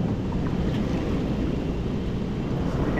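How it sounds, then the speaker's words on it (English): Waves break on a Costa Rica beach in a steady, moderately loud surf wash mixed with wind buffeting the microphone, with no talk over it. "You can hear the waves breaking on the beach there."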